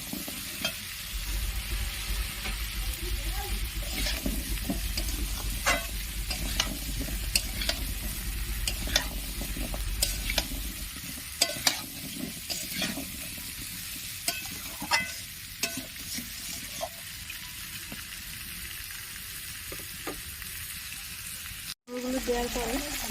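A pumpkin and fish-head mixed vegetable curry (labra) fries in a pan while being stirred, producing a loud, close sizzle with repeated scraping and clattering strokes that continue nearly the whole time, briefly dropping out near the end.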